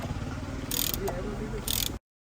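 Loosening the steering wheel bolt on a Ford Focus ST while swapping the stock wheel for a flat-bottom one: two short bursts of ratcheting, close and mid-loud, over low background noise.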